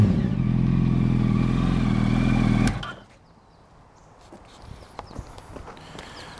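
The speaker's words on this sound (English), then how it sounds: "Give it a little rev." A 2007 Yamaha YZF R1 engine drones loud and close for under three seconds, then cuts off abruptly. Quiet scattered clatter follows, and no one speaks.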